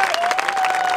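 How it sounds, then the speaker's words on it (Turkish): Crowd applause at a village association picnic in Yaykın, thick and continuous for the full second, with a steady thin tone running underneath the clapping. "Alkışlar daha yüksek."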